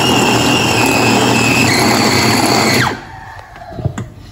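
Electric meat grinder grinding meat, a loud steady motor whine with high tones that runs for about three seconds, then stops abruptly, leaving faint clatter and quiet.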